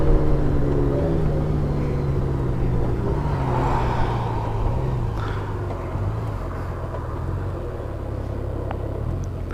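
A 2018 Honda Goldwing 1800 DCT motorcycle rides along and slows down: a steady, close engine rumble with broad wind noise whose low pitch gradually drops as the bike eases off.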